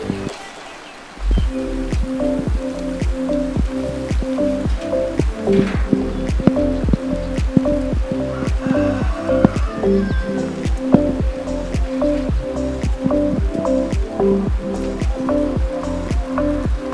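A heavy downpour drums steadily in a cattle-loading area, with dense, regular drips and splats close by for the whole stretch and no talking.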